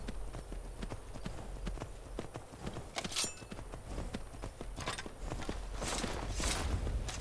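Horse hooves clip-clop at a walking pace on hard ground, a close, steady rhythm with a few brighter metallic clinks, the horse about to be stolen in a fantasy adventure story.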